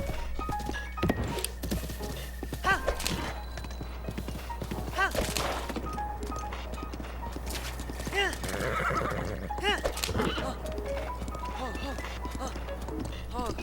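A horse in Breath of the Wild neighs and whinnies several times while rapid hoofbeats clatter underneath, with dull thunks mixed in and a voice talking over parts of it.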